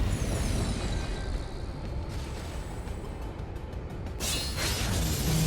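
A reality-shattering slash by the Warrior in a modded Risk of Rain 2 run: dense, continuous crashing and roaring noise with a sharp shattering burst and whoosh near the end, loud and full throughout.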